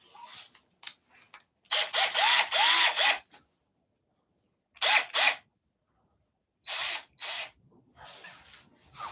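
A small power drill whirs in three short bursts separated by silence, close and fairly loud, with faint clicks and handling noise between.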